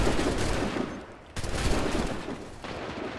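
Musket volleys ring out in Assassin's Creed 3, two heavy overlapping bursts of massed gunfire with rolling reports and a sharp second volley midway, loud and close with no talk.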